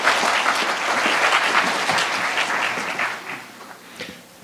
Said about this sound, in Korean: 여러분 큰 박수로 총장님을 맞이해 주시기 바랍니다